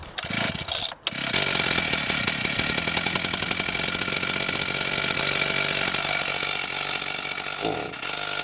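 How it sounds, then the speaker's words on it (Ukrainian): A Husqvarna 444 chainsaw is started with a brief pull, then runs loud and close at a steady high idle-to-rev drone for several seconds before briefly dropping off near the end. "Зараз я продемонструю, як вона в роботі, як вона працює."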